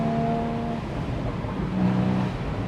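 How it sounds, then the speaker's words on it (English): A Porsche Spyder engine with its standard exhaust system rumbles and revs steadily, close and loud, with a brief rise in pitch partway through. "is the sound of that engine."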